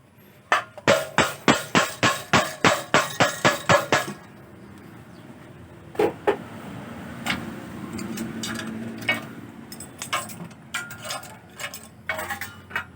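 A rapid series of about fourteen sharp metallic strikes from a steel hammer bending a plain metal sheet rings out close by, evenly spaced, then a pause and several scattered clanks over a low background rumble.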